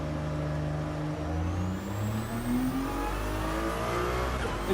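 A car engine in Gran Turismo 7, with a recently reworked sound, revs loudly and continuously, its pitch climbing and dropping through the gears in a steady, close drone with no talking.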